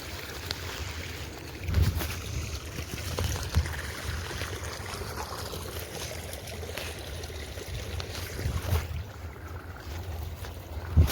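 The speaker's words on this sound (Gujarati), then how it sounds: "આ આપણે મોટર ચાલુ છે" A farm irrigation pump motor runs steadily in the morning, giving a continuous low hum under a broad wash of rushing, splashing water, with a few louder surges; no one speaks.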